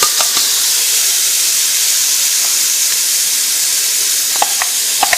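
Chopped onion and garlic, processed fine, sauté in a pan with a steady, soft sizzle and hiss throughout, and a few light clicks of a utensil near the end.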